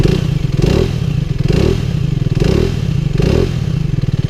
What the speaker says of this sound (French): petit bruit de 125, mais qui est très agréable pour rouler